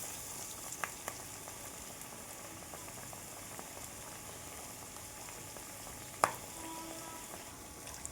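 Chana dal and ponnaganti leaf vadas fry in hot oil, a steady low bubbling sizzle throughout with a few faint clicks and one sharp utensil tap, no voices.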